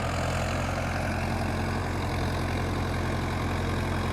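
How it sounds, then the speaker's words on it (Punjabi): A tractor engine runs steadily while puddling a flooded paddy field for rice replanting, a continuous low diesel drone with even mechanical rumble throughout, no voices. "ਉਹ ਆਪਣਾ ਸਾਹਮਣੇ ਟਰੈਕਟਰ ਚੱਲ ਰਿਹਾ ਤੇ ਦੁਬਾਰਾ ਕੱਦੋ ਚੱਲ ਰਹੀ ਆ"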